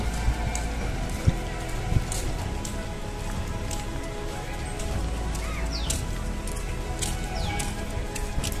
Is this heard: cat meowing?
no